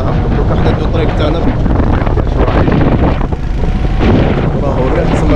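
Strong wind blows across the microphone outdoors in Burma, a loud, steady roaring buffet that fills the whole stretch with only slight swells and dips.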